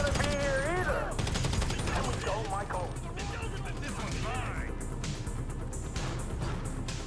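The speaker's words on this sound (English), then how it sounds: "Do they not know that we stole the neurotoxin and they're fucking shooting at us?" Gunfire in Grand Theft Auto V: rapid bursts of shots and sharp cracks during a chaotic shootout, mixed with game noise while several people talk and shout over it.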